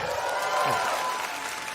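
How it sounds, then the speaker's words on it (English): Applause from a stand-up comedy audience, a short burst of clapping that fades slightly toward the end, with a tonal hum running underneath. "you don't have to clap"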